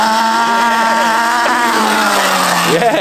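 A Surron electric motorbike drifts with a loud, sustained tonal squeal of skidding tires that wavers and slides in pitch, close by and without a break.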